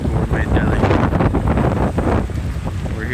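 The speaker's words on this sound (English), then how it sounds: "Oh, it's so cold and windy." Cold wind gusts across the microphone outdoors at a food truck brunch outside a coffee shop in Ferndale, Michigan, a loud, rough buffeting roar that swells and dips with brief voices mixed in.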